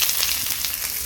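Chopped onion dropped into hot oil in a pan after dried red chillies were fried, a steady bright sizzle that stays close and loud throughout, with no voices.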